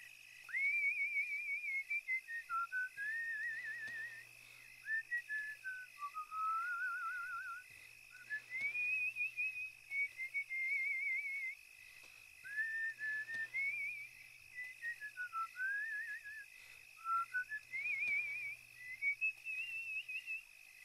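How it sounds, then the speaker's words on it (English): A thin, wavering whistle drifts through a slow, meandering tune in repeated phrases, quiet and eerie against a faint steady hum. "we heard the whistling."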